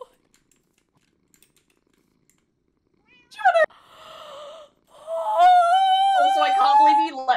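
A cat meows and purrs in a video game, the sounds rising loud and harmonic after a quiet stretch and running continuously through the final seconds.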